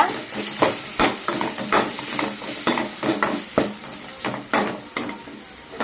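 Grated mango sizzles and fries in a pan while a utensil stirs and scrapes it in repeated strokes, close and steady, with no talking.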